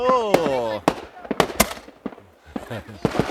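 New Year fireworks are set off nearby, with a series of sharp, loud bangs and crackles at irregular intervals, mixed with people's voices and shouting.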